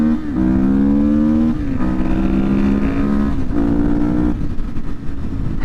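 Suzuki DRZ400SM motorcycle with an ECU flash and airbox mod being ridden, its engine droning close and loud as revs climb and drop through several gear changes.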